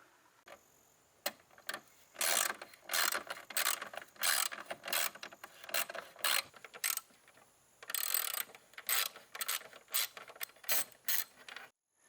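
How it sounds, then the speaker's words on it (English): A hand ratchet clicks in repeated bursts while fender bolts come out of a crashed Audi A7, the close, sharp ratcheting strokes stopping and starting over the span with short pauses between runs. "Alright, so I got the bolts out that are holding in the fender."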